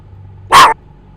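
A police K9 dog in a Roblox patrol game gives a single loud, close bark that stands out sharply against a quiet background.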